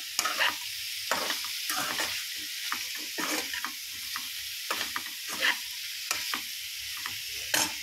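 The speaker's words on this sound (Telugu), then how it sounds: "కొంచెం వేగనివ్వాలి" Food fries in a pan with a continuous hiss and sizzle. Repeated scraping stirs break in at irregular intervals and sound close and moderately loud.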